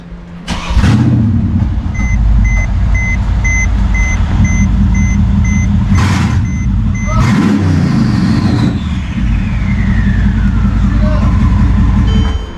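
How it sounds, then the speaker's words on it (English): A Mercedes CLS63 with an open downpipe cranks and fires up loud and close, with sharp revving bursts over a deep rumbling idle, while beeps and voices are heard in between. "I want to see if I get a start up with the open downpipe"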